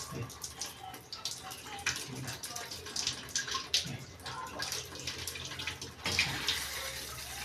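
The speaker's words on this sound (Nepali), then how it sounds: "ल हेर्नु माथिबाट पानी आयो" Water gushes steadily from a tank supply pipe after a fitting is opened during plumbing work, a continuous splashing rush that holds fairly loud through the whole stretch.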